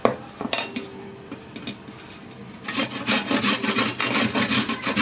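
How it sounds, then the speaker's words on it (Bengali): Olives being grated by hand on the coarse holes of a grater: a few sparse scrapes at first, then a dense run of rapid, close, rasping strokes with no talking. "এই ধরনের গ্রেটার দিয়ে, এই মোটা ছিদ্রটা দিয়ে জলপাইগুলো আমি গ্রেট করে নেব"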